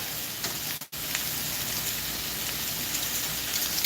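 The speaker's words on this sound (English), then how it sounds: "By the way, it's starting to rain right now, just a little." Light rain begins to fall outdoors, making a steady soft patter of scattered drops with a constant hiss, fairly faint and continuous, with a brief dropout near the start.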